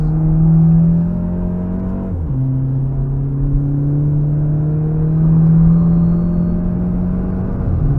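A car accelerating on the Nürburgring Nordschleife, heard from inside as a loud, steady engine drone whose pitch climbs through the gears, with a brief dip at a gear change; no one talks.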